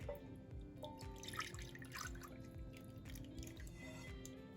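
Burnt Kerrygold butter pours into a bowl with a continuous close liquid trickle and dripping, steady in level throughout, with no voices.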